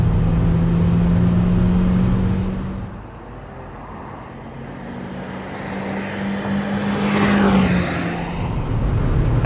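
A Toyota Yaris races around the Oulton Park circuit, its engine droning loudly from inside the car and rising and falling through gear changes, while another car's engine sweeps past.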